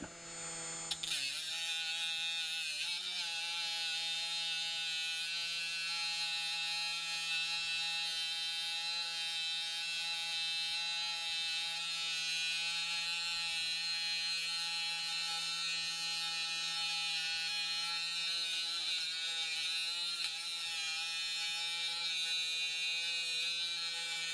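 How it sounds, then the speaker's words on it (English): A Dremel rotary tool cuts through wire rope with a loud, steady high-pitched whine and grinding buzz that runs unbroken for over twenty seconds after a brief start. "you can use a Dremel"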